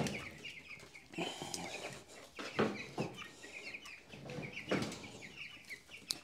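Ross broiler chickens and chicks in an indoor brooder making soft, continuous clucking and peeping at a distance, with occasional louder calls and a faint rustle of movement.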